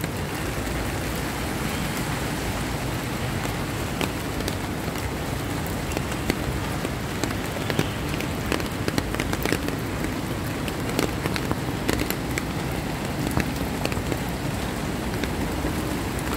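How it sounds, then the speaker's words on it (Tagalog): Heavy rain falls in a steady, dense hiss, with scattered sharper drop ticks on surfaces nearby. There is no talking. "Bumuhos yung malakas na ulan."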